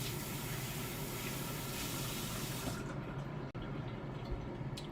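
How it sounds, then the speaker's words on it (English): Running tap water pours steadily over hands being rinsed at a home kitchen sink, a loud broadband rush that thins out near the end with a brief dip. "I'm gonna rinse my hands real quick."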